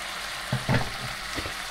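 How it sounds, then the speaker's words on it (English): Sauce of ham, bacon and mushrooms simmering in a pan, a low steady sizzle with a couple of brief louder stirring bumps near the start, close and alone. "the ham, the bacon and the mushrooms are all in. I'm just going to let that simmer for a few minutes"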